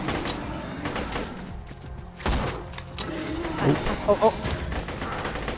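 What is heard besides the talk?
gunfire in the video game Borderlands 2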